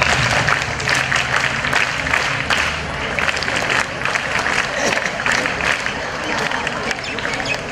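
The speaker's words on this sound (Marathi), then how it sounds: "आपण जोरदार टाळ्या वाजवूया एकदा" Audience at a school anniversary celebration bursts into loud, sustained applause, a thick, continuous clatter of many hands clapping that holds steady throughout.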